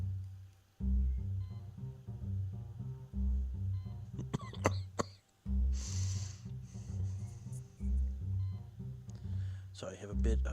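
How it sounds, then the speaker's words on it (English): A person with a cold coughs, giving a few short, sharp bursts against a steady tonal background, with one cough near the middle and another near the end. "trying to mute before I cough"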